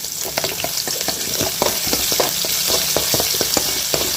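Finely chopped garlic sizzles in hot oil with a steady crackling hiss, punctuated by irregular pops and the scrape of a stirring spoon, close up.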